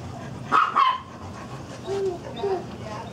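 A couple of short, high yips from a small puppy close by, followed by softer whimpering sounds against low background noise.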